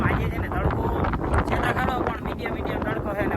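Strong wind blows across an outdoor farm field of brinjal and chilli plants, buffeting the microphone in a continuous loud rumble while a person talks over it.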